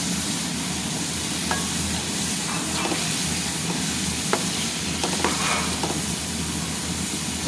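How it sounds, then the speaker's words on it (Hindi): Chicken pieces with garlic frying in a pan, a steady dense sizzle with occasional stirring scrapes and clicks, continuous and close, with no talking. "इसे हम अच्छे से फ्राई करेंगे। हल्का सा हमने फ्राई करना। अब हम इसमें 1 चम्मच डालेंगे लहसुन का पीस।"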